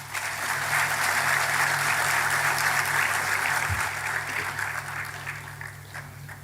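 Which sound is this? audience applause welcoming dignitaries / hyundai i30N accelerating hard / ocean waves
audience applause welcoming dignitaries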